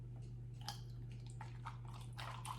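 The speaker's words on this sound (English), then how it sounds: "Gently pour the freshly whisked matcha" Freshly whisked matcha is poured over almond milk and ice in a glass, giving soft, faint splashing and trickling with a few small drips and clinks, heard close and quiet over a low steady hum.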